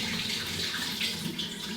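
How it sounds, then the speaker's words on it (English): Water being poured off rinsed rice into a sink, a short steady splashing stream with no talk. "pour off the excess water."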